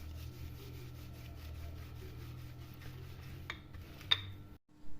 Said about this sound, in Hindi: एक पेड़ा लेके आप उसको इस तरह से बेलते जाएं